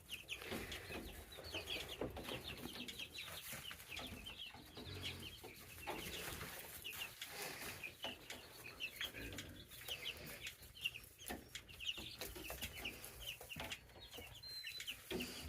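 Chickens and young chicks cluck and peep steadily around a farm barnyard, soft and somewhat distant, with continuous overlapping calls and no talking.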